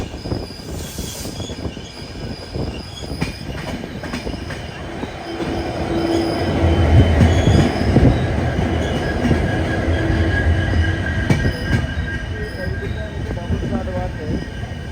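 An express train runs along the rails nearby, heard from the general class coach, with a continuous rumble, metallic wheel squeal and rattling that swell and persist throughout.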